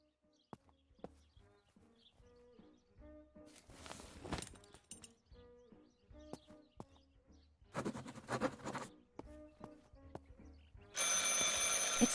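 A telephone rings inside the video game Martha Is Dead, with two bursts of ringing among sparse clicks, footsteps and ambient game sounds, then a loud, steady noise at the end.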